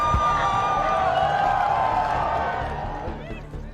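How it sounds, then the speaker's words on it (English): Large crowds in Hamburg cheer and clap to greet King Charles and Camilla on arrival, a dense continuous roar with whoops that fades slightly toward the end. "crowds turn out in their thousands to greet King Charles and Camilla as they arrive in Hamburg"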